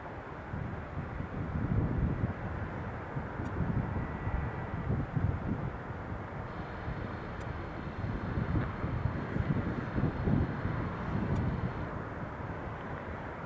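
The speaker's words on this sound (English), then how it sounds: "There we go, British Airways on the move" British Airways airliner taxiing at Newcastle International Airport, a steady distant engine rumble mixed with wind, holding even and continuous throughout.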